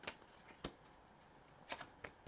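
Oracle cards are shuffled by hand in a few soft, quick riffling bursts, faint and close in an otherwise quiet room.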